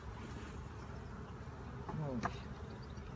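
Honeybees in an overcrowded hive during a colony inspection give a steady, dense buzz, with a louder burst near the middle.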